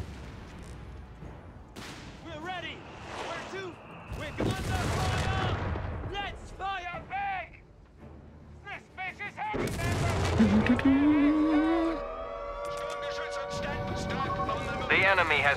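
Scattered gunfire and explosions rattle through a Company of Heroes 3 battle. The shots are mid-distance and mixed with in-game unit voices and effects, and people talk over the action.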